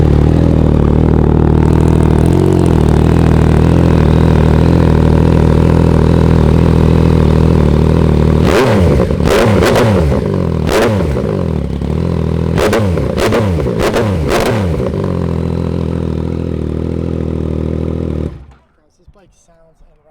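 A 2017 Yamaha XSR900 motorcycle with only 949 miles idles loudly and steadily close by, then takes a series of sharp throttle blips and revs in quick succession before the engine cuts off abruptly.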